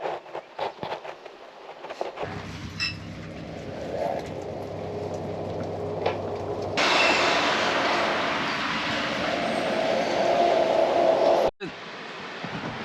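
A train in Denmark rumbles past close by, its loud roar building into a steady rush with faint wheel squeal before cutting off abruptly.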